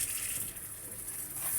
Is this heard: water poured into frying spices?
yes